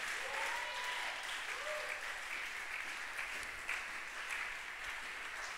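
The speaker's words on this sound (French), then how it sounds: "Acclame encore, s'il te plaît, acclame." A church congregation applauds during a French-language worship service, sustained dense clapping filling the space, moderately distant and steady throughout.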